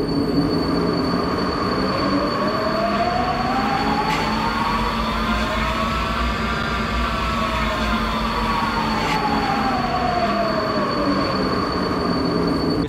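Budapest metro train at Szent Gellért station, loud and close: a steady underground rumble with long rising and falling wheel squeal and sharp clicks as the carriages pass, continuous throughout.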